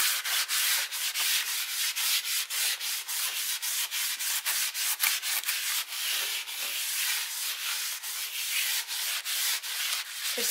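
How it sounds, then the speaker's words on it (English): Tissue is wiped back and forth over charcoal on a painting, a close, dry, papery rubbing in quick repeated strokes with brief pauses between, steady throughout with no talk. "I'm going to grab a piece of tissue and I'm just going to wipe this down a bit."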